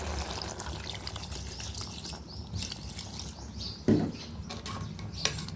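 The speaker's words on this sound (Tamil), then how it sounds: "தேவையான அளவு நம்ம தண்ணி சேர்த்துக்கலாம்." Water is poured into a cooking pot for mutton fry, splashing and trickling steadily with soft patter throughout, one sharper splash midway, and faint chirps in the background.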